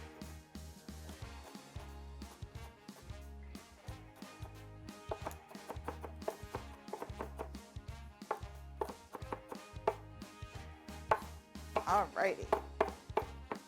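A knife runs repeatedly through garlic on a cutting board, mincing it for pasta e fagioli soup; a steady series of close, rapid chopping taps over background music, with a brief spoken word at the start.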